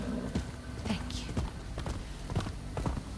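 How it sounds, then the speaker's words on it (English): A horse in the Rise of Ronin video game trots with a steady run of hoof clip-clops at regular intervals. Low background voices and game ambience run beneath them. "We'll just get on the horse and ride off"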